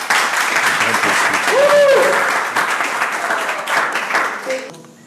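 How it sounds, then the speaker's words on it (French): Applause from a conference audience fills the room with dense, steady clapping that rises and then slowly tapers off, with a brief voice heard during it. "Je pense que ça s'applaudit quand même."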